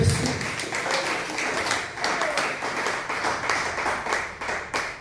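A church congregation claps loudly and steadily during a Spanish-language sermon, a dense, sustained wash of many hands with faint voices mixed in.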